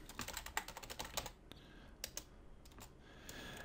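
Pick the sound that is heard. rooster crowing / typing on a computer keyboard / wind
typing on a computer keyboard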